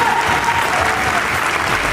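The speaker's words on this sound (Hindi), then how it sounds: "मैं चाहूँगी इसके लिए जोरदार तालियां होगी इस समूह के लिए।" Loud, steady applause from a large crowd fills the whole moment, dense clapping without pause.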